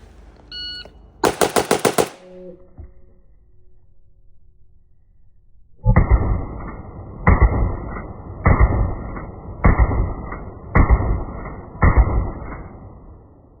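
AK-74 rifle fitted with a muzzle brake firing loud, sharp automatic bursts at an outdoor range: one short burst early, then a quiet pause, followed by six rapid strings of fire in close succession.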